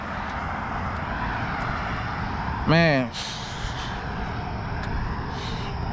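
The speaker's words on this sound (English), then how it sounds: "Still on this noisy United States highway." Busy United States highway traffic gives a steady, noisy roar. A short horn-like tone rises and falls midway, and someone says a word.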